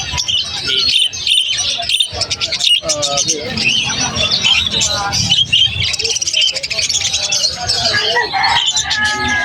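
Pet finches and other small cage birds in an aviary chirp and tweet busily, with some cooing mixed in, loud and close while someone talks over them.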